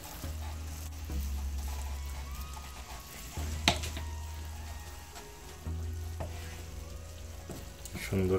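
Vegetable khichuri being stirred in a pan over low heat, a soft continuous sizzle with scraping stir strokes and an occasional clink of the spoon, close and fairly quiet with no talking.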